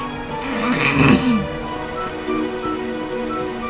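Rain falls steadily in the video game Dragon Quest XI, a continuous close patter with a brief louder swell near the start and no talking over it.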